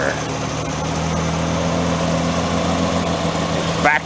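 A Chevrolet Monza engine with factory dual exhaust idles loudly and steadily up close, a low, even rumble that lasts about four seconds.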